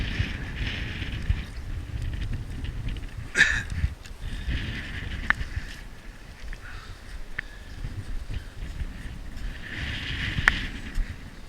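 Strong wind buffets the microphone in a steady rumbling roar while a tent is taken down outdoors, with a few sharp knocks and flaps from the tent.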